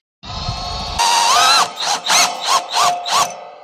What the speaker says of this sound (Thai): แล้วก็ทำการเจาะยึดผมจะยึดในลักษณะนี้นะครับ